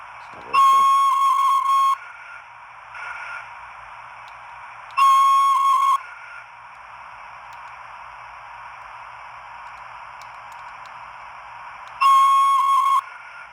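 Three shrill steam-style whistle blasts sound from a Flying Scotsman model locomotive's DCC sound decoder, each cut short, separated by quieter hissing and a faint chuff in between.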